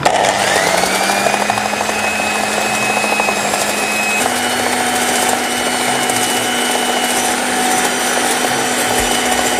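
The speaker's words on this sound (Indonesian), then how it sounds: "kalau kalian kocok putih telur, ini tuh kayak gini" Electric mixer whisking egg whites with sugar and vinegar for meringue, a steady loud whirring drone that runs the whole time with a slight shift in pitch midway, no voices.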